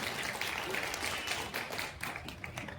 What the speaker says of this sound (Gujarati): એકવાર જોરદાર તાળીઓથી એમને વધાવી દીધો.